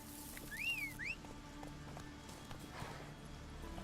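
Roach, the horse from the video game The Witcher 3: Wild Hunt, galloping with steady rhythmic hoofbeats, joined early by a short bird-like whistling call, all at low volume.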